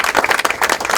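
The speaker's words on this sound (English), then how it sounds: "Give our public safety round of applause." An audience at a public speech gives a round of applause for public safety, dense, loud clapping from a crowd that fills the whole second.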